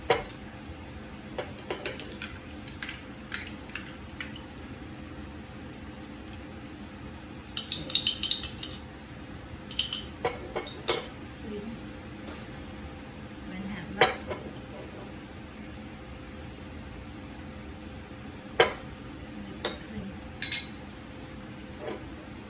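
Homemade teriyaki sauce being mixed in a jar, light clinking and tapping of a utensil against glass, scattered and irregular, with a few brighter clustered clinks over a quiet room background.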